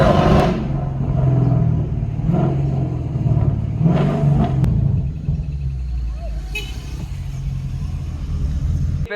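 A Ford Mustang Mach 1 fitted with a loud exhaust rumbles close by, its engine swelling in several short revs over a deep idle before settling back to a steady roar.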